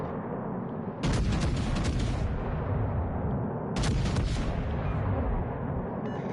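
Heavy battleship main gun salvos in the naval game World of Warships, two loud deep booming volleys a few seconds apart, each followed by a rumbling roar that slowly fades over constant engine and sea noise.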